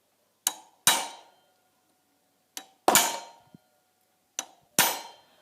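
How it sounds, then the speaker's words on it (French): Hammer strikes on a steel pin punch driven against a motor stator ring out in three pairs, each a light tap followed by a harder metallic clang with a short decay, close and loud, separated by silent gaps. "je préfère prendre le chasse-goupille et taper dans l'autre sens"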